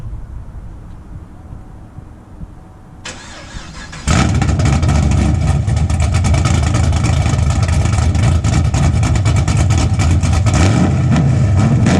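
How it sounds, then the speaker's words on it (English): A modified Chevrolet Camaro SS engine, tuned, idles low, then roars to life and revs hard and loud, exhaust rumbling steadily up close. "It gets exhaust popping and cracking."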